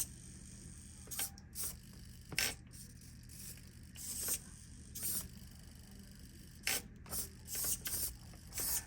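Steering servo in an upgraded AX24 RC truck straining at full lock, giving short bursts of whining, ratcheting gear noise in several separate pulses with quiet gaps between them.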